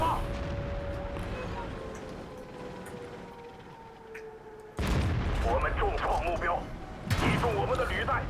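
A tank shell from a Panzer IV H in World of Tanks hits with a sudden booming impact that cuts through steady engine rumble, and a second loud hit follows soon after, while someone talks over the action.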